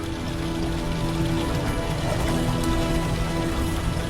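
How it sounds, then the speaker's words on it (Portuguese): Very heavy, sudden rain drums hard and steadily on a vehicle's roof and windshield, a dense continuous roar with faint tonal hum underneath, heard from inside with wipers running and no talking. "De repente, caiu uma chuva muito forte e parecia que estava vindo do nada."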